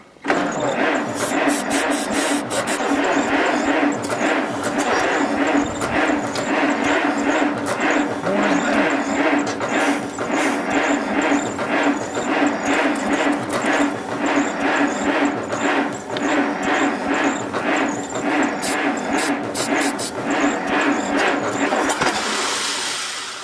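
A 1951 Allis Chalmers WD tractor engine cranks and catches, running loud and rough without pause for over twenty seconds. It is fighting a fuel problem at the carburetor, and the noise is close and continuous.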